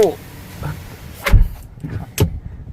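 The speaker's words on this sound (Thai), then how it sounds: "ปิดประตู" A door on a new Ford Next-Gen Ranger XLT pickup closes with a solid thunk from inside the cab, followed by a few softer clicks and knocks, and someone talks briefly nearby.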